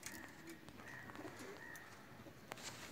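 Pakistani home-bred young pigeons coo softly at a loft, a faint low burble repeating under steady background hiss and a few distant chirps, with no talking.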